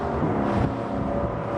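LOMAC Gran Turismo 10.5 boat engines roar steadily at 3,500 RPM while cruising around 30 knots, a loud, continuous low rumble with no break.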